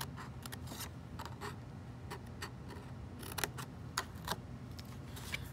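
Scissors or a blade cut small rectangles out of a paper box with faint, scattered snips and rubbing scrapes over a low steady hum, quiet and close.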